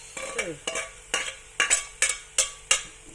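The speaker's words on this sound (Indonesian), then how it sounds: "sekarang saya kasih campur ini lada" Chili stirred into sambal belimbing buluh in a pan, a series of about eight sharp metallic scrapes and clinks at a steady rhythm, close and clear with no talk.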